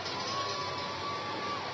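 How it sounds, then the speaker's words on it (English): Home crowd at an ice hockey game giving a player an ovation, a sustained broad wash of cheering and applause in an arena, steady and fairly loud with no distinct individual voices. "Huser gets the ovation from the home crowd"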